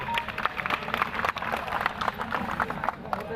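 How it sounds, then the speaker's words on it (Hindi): Crowd applause at a protest gathering of dismissed DTC bus marshals, a somewhat distant, uneven patter of clapping with scattered sharper claps and some background murmur, fairly quiet overall. "एक साथ सरकी में जोरदार तालियां"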